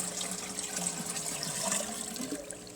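Water gurgles and splashes from a watering can as homemade compost tea pours onto a backyard garden, a continuous close pouring sound.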